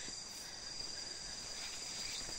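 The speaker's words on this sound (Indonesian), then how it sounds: "Lihat, ini ada jangkrik, jangkrik bos." Dense, continuous high-pitched cricket chirping fills the background, steady and even throughout with no talking.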